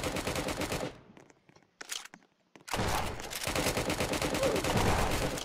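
Rapid bursts of gunfire from many players ring out in Roblox Prison Life, with dense automatic volleys, a brief lull of scattered single shots, then loud continuous firing resumes.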